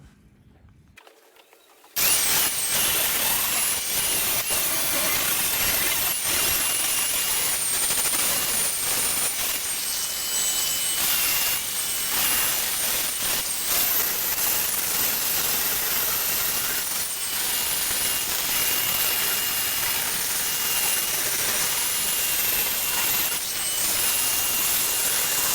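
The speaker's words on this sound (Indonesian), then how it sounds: "sekarang saya proses mau menghaluskan sisa-sisa las ini" A power tool smooths leftover weld bead on a modified motorcycle handlebar, giving a loud, steady, hissing grind with a high whine that runs without pause after a brief quiet start.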